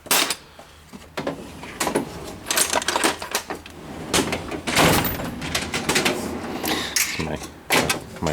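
A fine-tooth ratchet being turned gives off quick, crisp clicking bursts in irregular spurts, close and fairly clear, with someone talking in between.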